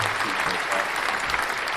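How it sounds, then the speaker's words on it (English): Steady applause from a podcast studio audience for a guest, a continuous dense patter of many hands filling the short stretch without a break. "Once again, a round of applause"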